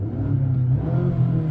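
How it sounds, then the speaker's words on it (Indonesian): The electric motor of a Mazda CX-80 plug-in hybrid SUV is revved, giving a steady, close, loud whirring hum with a rising tonal drone and no talk. "Ini baru pertama kali nih gue ketemu mobil hybrid atau mobil EV seperti ini yang motor listriknya bisa digeber."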